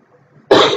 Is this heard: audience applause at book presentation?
no